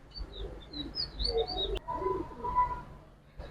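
Giribaz pigeons, a silver khaki pair among them, give soft low coos and brief chirps close by, with a sharp tap partway through and no talking.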